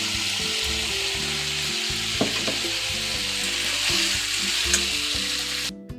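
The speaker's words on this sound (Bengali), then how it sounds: "এবার দিয়ে দেবো আমি 1/2 কাপ মতো জল" Mixed vegetables fry in a hot pan as about half a cup of water goes in, producing a loud, continuous sizzling hiss with steady bubbling throughout.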